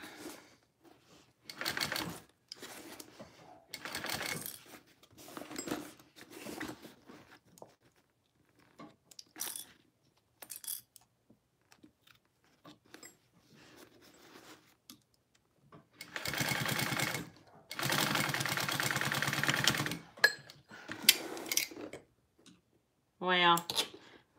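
A sewing machine stitches binding onto a barrel bag in several bursts, some short and stop-start, others longer continuous runs, with brief pauses between them and soft handling noises in the gaps.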